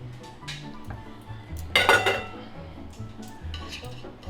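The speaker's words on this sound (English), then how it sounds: "we're just gonna stir constantly so that the eggs stay smooth" Utensil stirring lemon curd of butter and eggs in a pan, with clinking and scraping against the metal, a brief louder burst of clatter midway, otherwise steady and fairly quiet.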